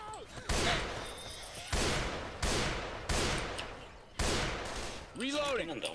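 Gunfire in Left 4 Dead 2: a series of loud, sharp shots in separate bursts from an M16 rifle set to three-round burst, with game sound effects between them.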